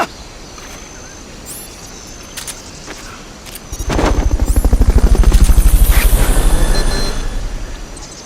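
Helicopter in Metal Gear Solid: Peace Walker, a loud rhythmic rotor thumping that starts abruptly midway and swells, following quieter game effects and chirping insects.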